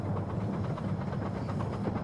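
Rumbling of a miniature steam train carriage on the Romney, Hythe & Dymchurch Railway in Kent, a steady low rolling drone with faint rhythmic wheel clatter, close and continuous, with no talk.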